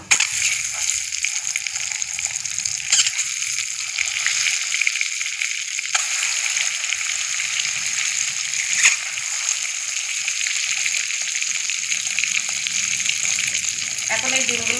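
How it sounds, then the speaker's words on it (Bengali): Eggs frying in hot oil in a kadai for a Bengali egg curry, a steady close sizzle and spatter running throughout with faint stirring. "আমি ভালো করে ভেজে নেব ডিমগুলো উল্টো পাল্টা করে ভেজে নিয়েছি"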